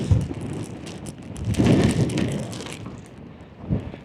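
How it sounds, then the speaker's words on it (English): Strong wind sweeps across an open fell, buffeting the microphone in rough, rumbling gusts that swell midway and surge again near the end, with no voices. "So this wind's actually coming from a different angle."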